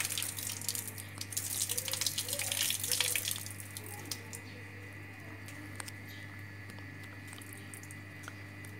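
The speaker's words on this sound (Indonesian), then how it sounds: "Kita matikan airnya." A tap runs with a splashing rush that drops away after a few seconds as it is turned off, leaving a quiet hum and faint drips.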